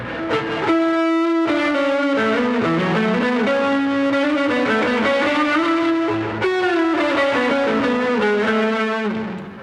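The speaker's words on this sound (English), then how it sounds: "a Dirty Dog reverb." An electric guitar runs through a Safari Pedals Dirty Dog reverb plugin, playing loud sustained chords and melodic lines with a gritty, saturated edge and lingering reverb tails. A short break near the start interrupts the playing.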